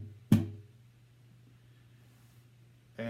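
A thumb strikes muted guitar strings near the bridge, giving one sharp percussive thump followed by a low lingering hum and a second hit at the end, close and fairly quiet.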